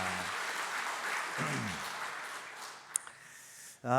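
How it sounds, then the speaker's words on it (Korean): A church congregation applauds during a Sunday worship service at Andong Church, a steady wash of many hands clapping through most of the moment before fading, with a few brief voices and a short burst of talk near the end. "수고하신 분들을 위해서 다시 한번 박수 한번 해주시기 바랍니다"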